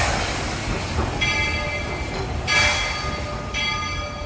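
A train rumbles past steadily at Magic Kingdom with bright metallic ringing tones swelling in and out, a continuous rolling noise with no talking.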